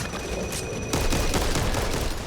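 Sustained rapid minigun fire in the zombie shooter Back 4 Blood, a dense continuous roar that jumps louder partway through and runs steadily to the end.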